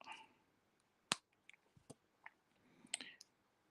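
Jewelry wire being trimmed with small cutters while wrapping a briolette, heard as a few sharp, isolated clicks and snips, close but quiet, with soft handling noises between them.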